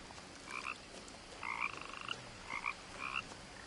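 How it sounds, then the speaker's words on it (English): Frogs croak in the video game What Remains of Edith Finch, several short rasping calls in irregular bursts, faint and fairly distant over a quiet ambient background. "Oh my god, so many frogs."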